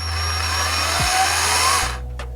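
A corded power drill plugged into a Ryobi TriPower outlet whines steadily and strains, its pitch dipping and sagging as the underpowered supply struggles, then the motor winds down near the end, close and loud with no talk.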